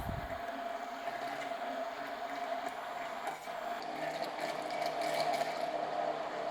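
A blender whirs through a protein mac and cheese sauce with a steady, humming motor whine that grows slightly louder toward the end.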